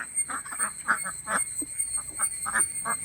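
Kuttanad ducks in Kerala give repeated short, nasal quacks from a flock, overlapping one another in an irregular chatter over steady outdoor background noise.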